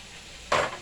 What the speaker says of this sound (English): meanwhile my chicken is frying